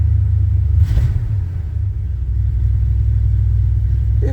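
A 1978 or 1984 Chevy C10 pickup engine idles steadily up close, a deep continuous rumble with an even low throb and no talking.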